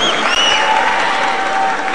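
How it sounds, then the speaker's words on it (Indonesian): An audience at an evening official ceremony in Indonesia applauds in a dense, sustained wash of clapping that holds steady for its full length, with faint tonal sounds in the background. "sekali lagi kita berikan tepuk tangan yang paling meriah untuk apa yang sudah terjadi pada"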